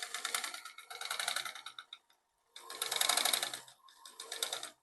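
A sewing machine stitches a kurti sleeve in two close, rapid bursts with a short silent gap between them. The second burst is the louder one and trails off into a briefer run.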